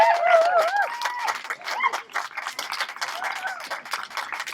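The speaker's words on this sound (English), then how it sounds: "And Chloe Kobel with an enormous round of applause." Applause and clapping from an ocean-conservation event audience, greeting a speaker as she comes on; the crowd sound stays steady and fairly loud, with a few excited tonal calls or cheers near the start.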